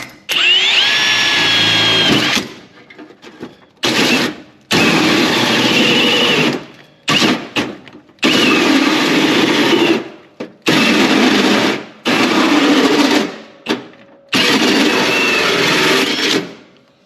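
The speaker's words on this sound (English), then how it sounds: "hole saw down at the shop, which is 111mm, not quite the 114 as it asked for, but we'll just die grind out the rest." Power tools cut a 111 mm hole in a car body, a hole saw and then a die grinder, in repeated loud bursts of whining cutting, each a second or two long, separated by short pauses.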